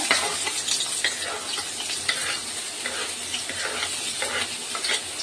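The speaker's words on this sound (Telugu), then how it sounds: "ఇప్పుడు ఇలాగే ఇది ఇలా వేగుతూనే ఉంటుంది." Patoli fries in a pan with a dense, continuous sizzle and crackle, heard close and without any voices. Faint stirring scrapes come through underneath.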